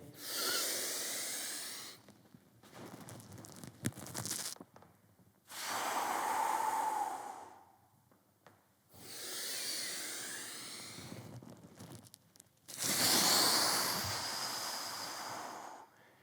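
Slow, deep breaths in alternating long inhales and exhales, each lasting a couple of seconds, airy and close with short pauses between.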